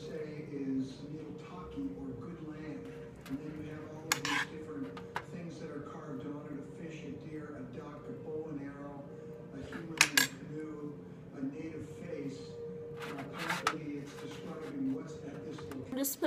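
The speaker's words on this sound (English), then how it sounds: "now I'm just going to start filling these up with meat and lining them up in the pan" A spoon clinks against a pan as taco shells are filled with meat and lined up, with scattered sharp taps amid steady kitchen hum while someone talks nearby.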